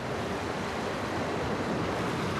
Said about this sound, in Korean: 갑자기 바다가 거칠어지기 시작합니다. 약까지 챙겨 먹었지만 파도의 출렁거림에 아빠는 오늘도 적응하기가 쉽지 않습니다